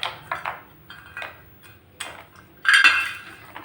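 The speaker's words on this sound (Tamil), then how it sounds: "முந்திரி சேர்த்துட்டு நல்லா மிக்ஸ் பண்ணி விட்டுருங்க" A utensil stirs cashews through caramelized sugar in a pan, giving scattered scraping clinks and taps, ending in a louder rasping scrape.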